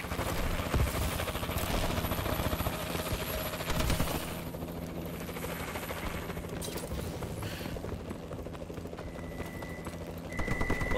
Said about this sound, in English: Warbird in the air.